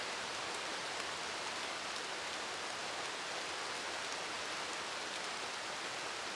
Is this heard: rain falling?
yes